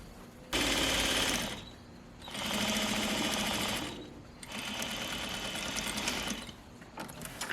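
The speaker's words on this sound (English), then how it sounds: "And sew to the end of the hem." A sewing machine stitching a pajama hem, three steady whirring runs of rapid needle strokes separated by short pauses, close and clear with no talking.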